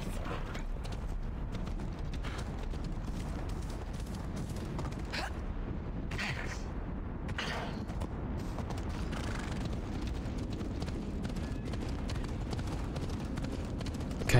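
Horse hooves clip-clop at a steady trot in Assassin's Creed Odyssey, a continuous rhythmic clatter over a rumbling ambient bed, with occasional creaks of gear.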